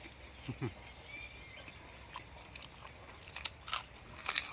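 Someone chews crunchy food, a northern Thai meal of pork sausage with chili and ginger dip, giving scattered close crisp bites and crunches between quiet pauses, with no talking.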